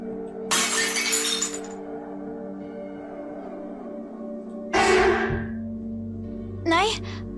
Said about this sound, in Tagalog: Biglang nahulog ang baso na kanyang hawak-hawak.